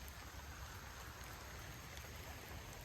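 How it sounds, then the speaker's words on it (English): Light drizzling rain falls outdoors at Blackwater Creek preserve in Florida, a steady, soft, broadband patter and hiss that holds evenly throughout with no voices. "Drizzling rain out here."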